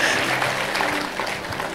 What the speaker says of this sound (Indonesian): Lah sekarang boleh tepuk tangan yang sekarang.